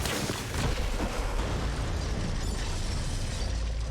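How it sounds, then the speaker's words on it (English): In Borderlands 3, planted bombs go off in a forest, a loud dense roar of explosion rumble and crackling debris that fills the whole moment without voices. "Explosion echoed through the forest, and those devil riders didn't even get a chance to hit the brakes."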